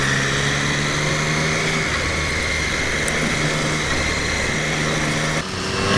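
Triumph Street Triple 660S motorcycle engine on a ride, a loud steady buzzing drone with continuous wind rush and no talking, pulling hard under acceleration through a passing zone.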